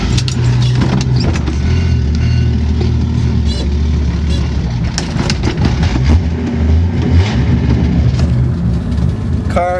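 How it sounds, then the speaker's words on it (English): A 1969 Chevrolet Nova four-door with the 250ci inline six runs steadily nearby. Its engine note is a low, even rumble with light sputtering and a few faint knocks and rattles over the top. "It idles really nice and quiet, but it still sputters a bit, and it still runs on a little bit."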